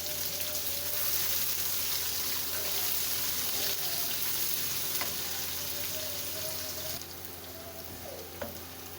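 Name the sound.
onions sautéing in a pan for vegetable chow mein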